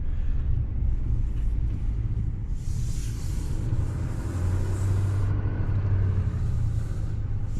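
A Chevrolet Silverado 3500HD dually pickup with the Duramax diesel driving along, its deep engine rumble and road noise steady and close throughout, with a slight rise in drone partway through.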